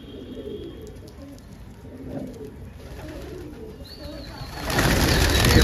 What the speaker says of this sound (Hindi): पटियाले कबूतर है।